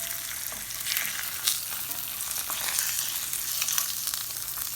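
Eggs frying in a pan for a breakfast sandwich, a steady bright sizzle and crackle close up with occasional pops, no voices over it.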